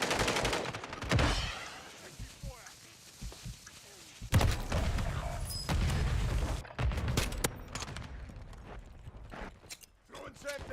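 Gunfire in Call of Duty Warzone on Rebirth Island, bursts of shots and impacts scattered through a busy game mix with voice callouts and other battle noise.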